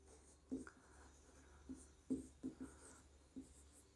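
Writing on a board during a math lesson, faint tapping and scratching strokes in an irregular rhythm of about eight short marks, quiet and close, with no talking.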